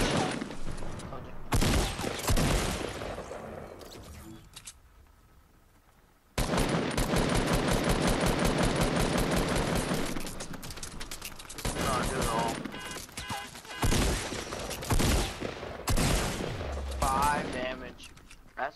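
Shotgun gunfire in an online shooter game, loud bursts of rapid shots and blasts in several clusters with brief pauses between them, with faint chatter in the gaps.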